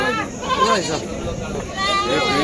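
Goats bleating at a crowded rural goat market in Gangapur, with people talking loudly over them and general market bustle throughout.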